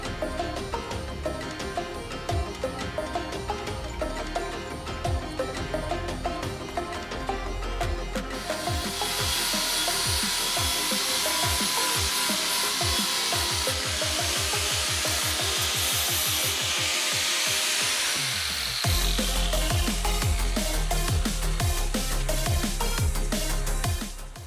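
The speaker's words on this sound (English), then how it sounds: "I prepped the middle one to go in. This started with me grinding the welds on the corners flat, and then removing the mill scale" An angle grinder works a steel frame, grinding corner welds flat and scouring off mill scale, with a continuous loud abrasive rasp and shifting pitch as the disc moves over the metal.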